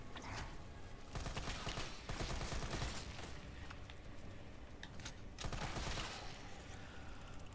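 Gunfire in the video game Resident Evil 3, several bursts of rapid shots in quick clusters with quieter gaps between, loud and close throughout.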